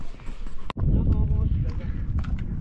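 Pack horses carrying gas cylinders and luggage walk down the Triund trek trail in Himachal Pradesh, hooves clopping irregularly close by under steady wind and someone talking.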